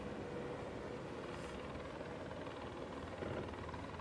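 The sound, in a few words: helicopters flying low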